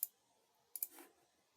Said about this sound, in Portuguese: vou clicar aqui no botão de corrente